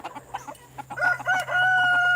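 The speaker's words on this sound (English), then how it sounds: "There's my silkies. That's my first silkies." Silkie chickens cluck and call in a busy backyard flock, with overlapping bird sounds close by and a steady background hum.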